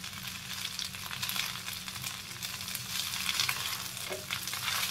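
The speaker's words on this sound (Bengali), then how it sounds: "এবার গ্যাসটাকে আমি জোরে করে দিলাম। এবার এটাকে ভালো করে মশলাগুলো সঙ্গে মেশাবো।" Fried rice with spices being stir-fried over a high gas flame, a steady loud sizzle with the scrape and toss of a spatula running throughout, no voices.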